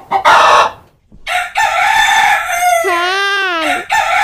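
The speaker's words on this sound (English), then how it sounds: "H for hen." A hen clucks loudly up close, then crows in a long, rising and falling call, in a clear farmyard-style sequence with short gaps between the sounds.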